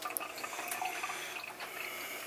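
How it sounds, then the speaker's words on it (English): A leaking faucet runs and drips water with a faint, steady wet hiss and soft splashes, quiet and continuous, no voices. "Ooh, leaking faucet."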